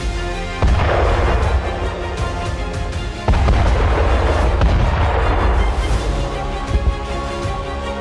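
Heavy booming blasts from an explosion at sea roll out, with a deep rumble swelling again midway, loud and sustained like a large explosion heard from a distance.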